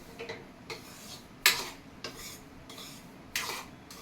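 Semolina dry-roasts in a pan as a spoon scrapes and stirs it, making a series of quiet, irregular scraping strokes and light metallic clinks close by, with little else around.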